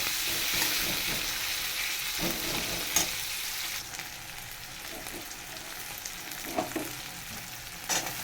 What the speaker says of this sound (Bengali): দিয়ে দিলাম পেঁয়াজ। একটু ঝাঁকানাকা করে ভেজে নেব ভালো করে।